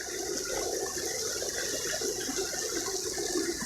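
A fairly large stream flows steadily near a house in the countryside, a continuous even wash of running water with no talking.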